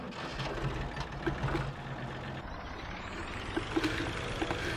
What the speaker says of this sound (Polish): to wchodzimy i wam usłyszycie, jak on, jak silnik pracuje.